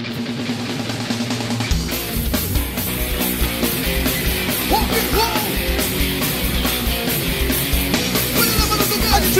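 A crowd at a swingueira pagode concert yells loudly over a driving live band that keeps playing throughout.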